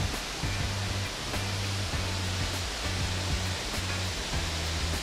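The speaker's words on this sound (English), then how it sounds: "The waterfall." Sturtevant Falls pours in a steady, dense rush of falling water, loud and close, with a faint low thudding pulse running beneath the constant hiss.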